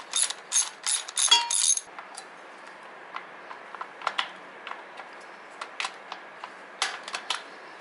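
A ratchet clicks while a toe shifter bolt is removed from a Harley-Davidson motorcycle, with quick bursts of clicks at first, then sparser, quieter clicks, heard close with no talking.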